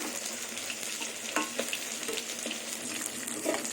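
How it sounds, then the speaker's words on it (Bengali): Fish heads crisping in hot oil sputter with a bright, steady sizzle, punctuated by a few sharp pops and light utensil taps, with no talking. "মাছের মাথা ভাজা হয়ে গেছে"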